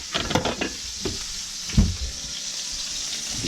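Duck frying in a pan, a steady soft sizzle with a few brief stirring and scraping clatters near the start and one louder knock in the middle.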